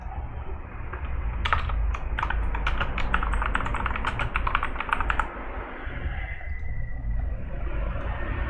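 Rapid clicking keystrokes on a computer keyboard while typing a variable name, about four seconds of quick taps over a low steady rumble, then the typing stops and only the background hum remains.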